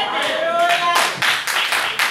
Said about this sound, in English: Thank you for the two claps this morning.